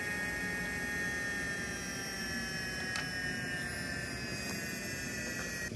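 A Nakanishi NSK EM25N-5000 motor running on a sensorless controller gives a steady high-pitched electric whine over a low hum, with a few brief glitchy clicks.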